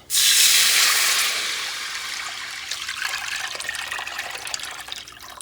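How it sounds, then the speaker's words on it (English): Coconut milk is poured into a pot of cooking annatto seeds, making a loud splashing rush at first that settles into a steady sizzling, bubbling pour, close with no talk. "I'm going to add the coconut milk."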